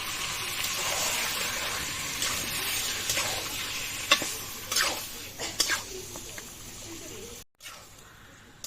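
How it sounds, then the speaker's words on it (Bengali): Chicken is sautéed with a splash of water in a pan, a steady close sizzle broken by scraping stirs and a few metallic knocks, ending with a brief cut to near silence. "সামান্য একটু পানি দিয়ে একটু ভালো করে কষিয়ে নেব।"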